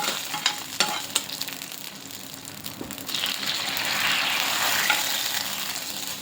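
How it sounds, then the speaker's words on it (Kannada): Spices crackle and sizzle in hot oil as tempering for homemade sambar, a bright steady fry with a few sharp pops early on, swelling louder toward the end, close by with no talking. "ಇವಾಗ ಒಂದು ಒಗ್ಗರಣೆ ಕೊಟ್ಟರೆ ಮುಗೀತು."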